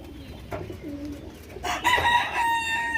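Pigeons being fed rice give low cooing calls, followed by a sharper, louder burst of bird calls in the second half, close by with no talking.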